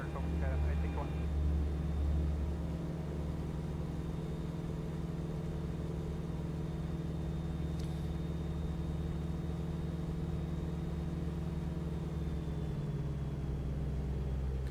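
FK9 Mark 4 microlight aircraft engine droning steadily in flight around 5,000 RPM, a constant loud hum with a thin high whine above it, under someone talking.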